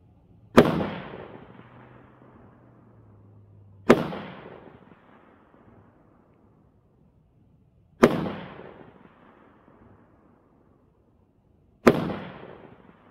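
Four single shots from a Lockhart Tactical Raven 5.56 rifle firing Winchester White Box ammunition, each a sharp loud crack with a decaying tail, spaced about four seconds apart with quiet between.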